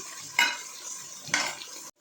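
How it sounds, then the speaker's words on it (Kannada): Onion fries in a pan for tomato bath, giving a soft steady sizzle with two distinct scraping stirs about a second apart before the sound cuts off abruptly. "ಈಗ ಈರುಳ್ಳಿ ಫ್ರೈ ಆಗ್ತಿದೆ."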